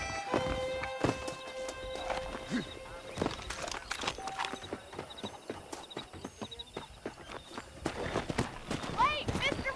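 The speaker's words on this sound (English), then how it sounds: "The horses are saddled up over here." Horse hooves clip-clop in the Western video game Red Dead Redemption, irregular steps heard under voices and game sounds.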